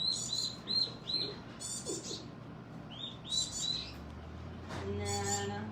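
A baby black-capped chickadee gives a series of thin, high chirps in short bursts, close and clear, with a brief pause partway through and a faint low hum underneath.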